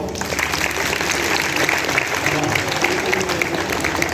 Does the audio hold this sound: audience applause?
yes